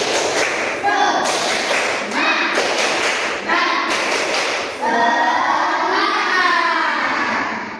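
A class of schoolchildren claps a rhythmic encouragement cheer, tepuk semangat, in quick bursts of loud, close clapping with short pauses between sets, mixed with young voices.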